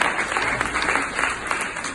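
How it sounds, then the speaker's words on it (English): Audience clapping at a stand-up card magic act, a short burst of applause from a moderate crowd that holds steady throughout. "Everyone give Mike a big round of applause as he helps out"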